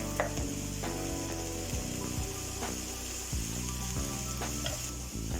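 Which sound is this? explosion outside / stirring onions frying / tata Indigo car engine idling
stirring onions frying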